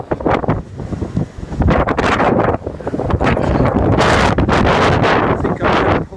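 A strong gale roars across the microphone outdoors, heavy buffeting wind rumble in uneven loud gusts that build and stay intense to the end.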